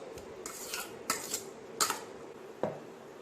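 A spoon scrapes and clinks against a dish while mixing lemon rice, giving several short, fairly close strokes in an otherwise quiet setting.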